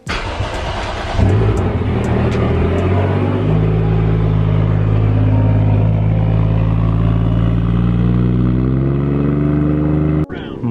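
Toyota Mark II JZX100 sedan driving out on a run to burn fuel before an oil change: steady loud engine drone with rising gear-by-gear tones, heard from inside or close by, with no talk.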